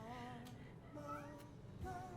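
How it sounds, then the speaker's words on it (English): Cat meowing, several drawn-out, tonal meows in a row, faint and somewhat distant against a quiet room. "No, that's the cat."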